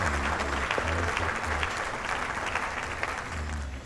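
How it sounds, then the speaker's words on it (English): An audience claps for a grower showing a fragrant orchid, a continuous, fairly loud patter of many hands that stays steady throughout and fades slightly toward the end, with no speech over it. "give her a big round of applause"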